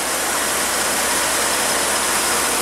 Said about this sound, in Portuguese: o motor já tá funcionando, redondinho